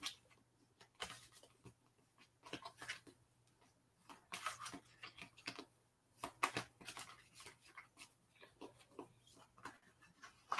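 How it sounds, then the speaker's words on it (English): A small deck of playing cards, thirteen cards plus a joker, being shuffled by hand during a games night, heard as soft, quiet riffles and flicks in short bursts with pauses between. "I'm now going to shuffle them."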